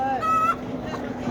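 Nasal honking calls of ducks mixed with chicken clucking, a few quick cries close by over a busy outdoor animal market background.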